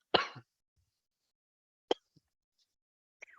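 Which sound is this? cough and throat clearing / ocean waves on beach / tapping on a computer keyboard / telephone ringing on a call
cough and throat clearing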